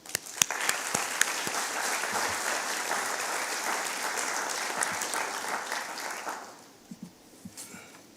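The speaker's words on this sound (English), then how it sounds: "You all deserve a round of applause." Applause from families, teachers and friends at the FHR graduation ceremony, a dense steady wash of clapping with a few sharp nearby claps, fading out near the end into quieter scattered claps.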